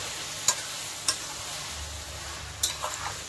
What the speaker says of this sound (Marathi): आता याला एकजीव करून तेलामध्ये परतून घेऊया थोडंसं